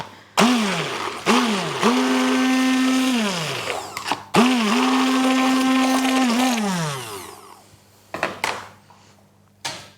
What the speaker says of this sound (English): Just gonna whisk this egg so it's really, really good